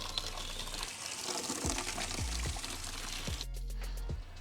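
Water is poured into a container while a car is being washed, a close, faint trickling splash with a few soft knocks and gurgles.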